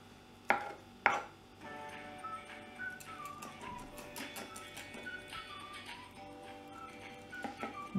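A knife cuts through a small sardine on a board with two sharp chopping knocks near the start, followed by quieter scraping and handling noises and a few light taps at the end; no talk.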